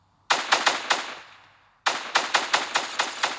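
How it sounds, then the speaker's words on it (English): Rapid automatic gunfire in Fortnite, two loud bursts of about five shots each with a brief lull between them, close and clear with no talking. "someone started shooting at him"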